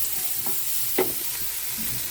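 Chopped onion and vegetables sauté on a high flame for white sauce pasta, a constant frying hiss broken by a few light stirring knocks, including one sharper clack partway through. No voices.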